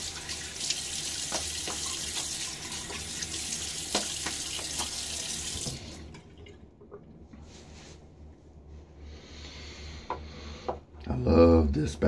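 Tap water runs steadily into a sink while a face is wetted before a shave with a badger brush, a continuous close splashing stream for about six seconds, then quieter dripping and handling sounds with a louder splash near the end.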